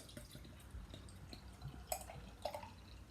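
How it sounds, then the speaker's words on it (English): Gluten-free Hahn Super Dry beer pours from a 330 ml green bottle into a glass, a soft, steady liquid trickle with a few faint clinks, quiet and close. "Crack it open and pour out into this"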